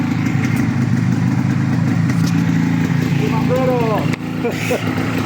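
An MZ motorcycle engine idles steadily up close, its rumble continuous under people talking.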